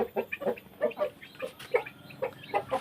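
A young rooster clucks in short repeated bursts, close and clear with no talk over it.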